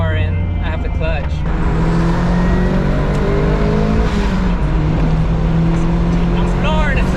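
Mitsubishi Mirage with a turbocharger accelerating at full throttle, its engine droning loud and steady throughout from inside the car, with rising harmonic whine toward the end.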